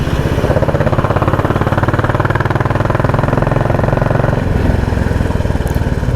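A Royal Enfield Bullet 350 motorcycle engine runs close by with a loud, steady thumping rhythm, idling and holding revs for several seconds before easing slightly near the end, with no talk.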